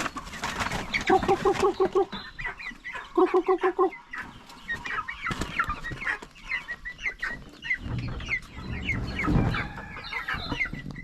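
Several hens clucking and squawking close by, with scattered bursts of calls and some background rustling; a rooster's crow may be mixed in.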